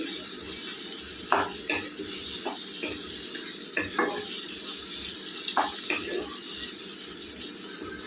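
Brinjal and tomato curry simmers under a lid in a pan, a continuous soft sizzle and bubbling hiss with occasional small pops and stirring knocks, close and steady throughout.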